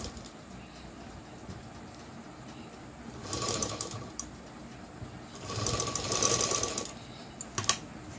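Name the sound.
sewing machine double stitching a blouse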